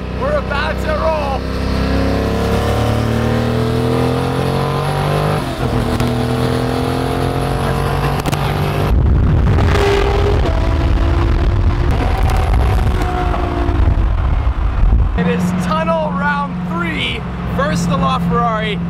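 A McLaren Senna supercar pulls away and accelerates, its engine note climbing through rising revs in several surges, loud and close, with voices talking faintly underneath.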